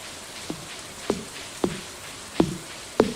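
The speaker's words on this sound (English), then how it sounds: "It's raining." Rain falling in the video game Stardew Valley, a soft steady patter with a handful of sharper droplet taps landing at irregular intervals, close and fairly quiet.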